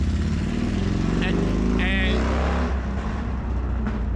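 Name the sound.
motorcycle passing by on a city street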